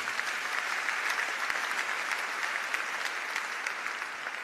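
A church congregation claps steadily in applause during a sermon, a dense, even wash of hand claps filling the space without pause.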